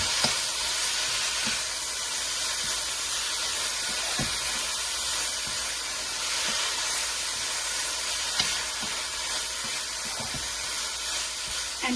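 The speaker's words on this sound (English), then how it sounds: "Saute that." Vegetables sauté with red chili sauce for street-style veg chowmein, giving a steady, close sizzle and hiss with a few soft clicks of stirring throughout, and no voices.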